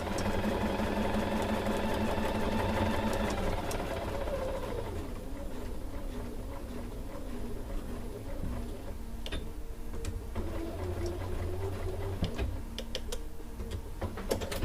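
A sewing machine joining quilt block seams, its rapid motor hum and needle ticking clear for about four seconds before easing into quieter, softer running with scattered small clicks.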